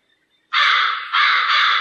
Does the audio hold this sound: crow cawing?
yes